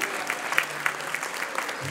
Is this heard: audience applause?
yes